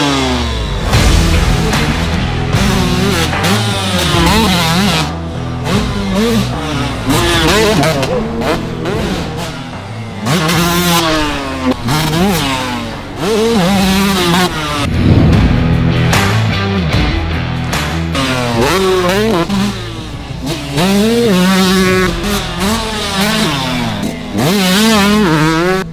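A 125cc motocross motorcycle races through rhythm sections, its two-stroke engine loudly and repeatedly revving up and down in sharp pitch sweeps, with brief drops between bursts of throttle over about half a minute.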